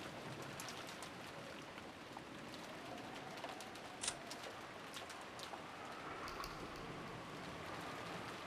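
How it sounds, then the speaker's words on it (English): Soft steady rainfall ambience with scattered drip patters, played as a break track, holding at a low even level while a few faint bird calls and coos surface now and then. "we get the soothing sound of rain for the break"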